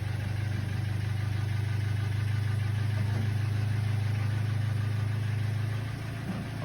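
A car engine treated with BG additive idles steadily with a low, even hum and faint ticking, close and constant for several seconds with no talking.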